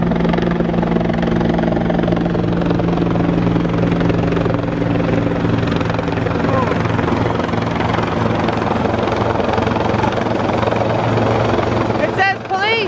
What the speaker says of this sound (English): The helicopter's coming for us.